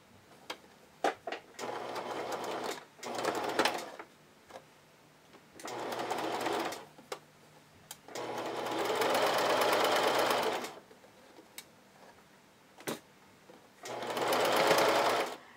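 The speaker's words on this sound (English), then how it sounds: "using a regular straight stitch on your sewing machine, you're going to sew through all of these layers" A sewing machine runs a straight stitch through several layers of fabric, whirring in repeated bursts of varying length, from short stutters to sustained runs of a few seconds, with brief clicks and pauses between them.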